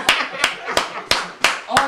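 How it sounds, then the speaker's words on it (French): A studio audience on a French-language TV set claps, six sharp, evenly spaced hand claps in quick succession, close and crisp, with a faint background murmur. "Sous vos acclamations."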